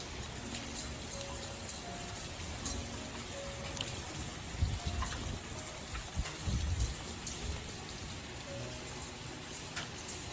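Steady rain falls throughout, a dense, continuous patter on surfaces with scattered close drops and a few low rumbles, heard alone without talk.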